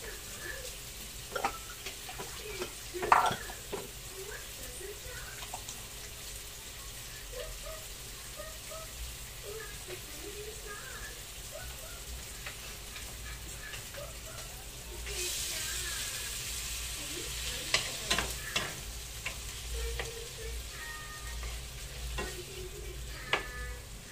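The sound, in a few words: potatoes and ground meat frying in a pan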